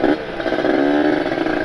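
A Kawasaki Ninja RR two-stroke motorcycle with a ported engine and an ABRT20 aftermarket galvanized exhaust revs close by, a loud, buzzing, raspy drone rising slightly in pitch over under two seconds.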